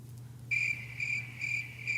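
Crickets chirp as a sound effect, four evenly spaced bursts of bright, clear trills over a low hum, with no voices.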